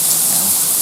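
Steady outdoor rain hiss during a storm with lightning, a constant dense wash of falling drops with no breaks and no voices.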